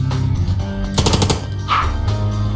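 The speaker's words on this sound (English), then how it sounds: "Let's use the incendiary shots in their heads." Incendiary shots go off in the video game Long Gone Days as a quick, loud burst of rapid gunfire amid game music and effects, followed by a brief rising tone.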